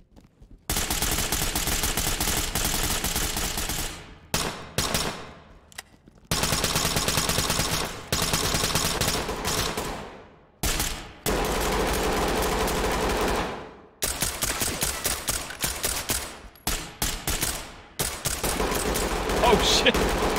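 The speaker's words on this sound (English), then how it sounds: "There was friendly fire in here." Bursts of automatic gunfire in the tactical shooter Ready or Not, loud, close rapid volleys broken by short silent gaps, repeating across the whole stretch.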